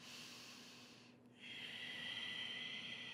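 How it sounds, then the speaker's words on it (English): Steady, hushed Ujjayi breathing during a power vinyasa yoga flow: a long airy exhale, a short pause, then a louder, smoother breath that continues to the end, close and with no talk. "Breathing here, using that Ujjayi pranayama."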